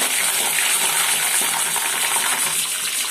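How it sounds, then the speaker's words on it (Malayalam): Mustard seeds, dried chillies and curry leaves dropped into hot oil for beef thoran, loud close crackling and popping sizzle that runs steadily throughout. "നമുക്ക് എണ്ണ ചൂടായതിലൽപ്പം കടുക് ഇട്ട് കൊടുക്കാം. അതിനുശേഷം ഉണക്കമുളകും കറിവേപ്പിലയും അതും ഇട്ട് കൊടുക്കാം."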